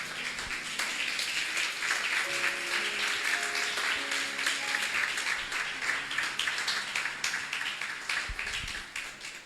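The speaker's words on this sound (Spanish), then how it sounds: "Si tú le crees, dale un fuerte aplauso a Dios." A church congregation breaks into sustained, dense applause during a Spanish-language sermon, the clapping steady and full throughout, with faint held musical tones underneath and a few low thumps near the end.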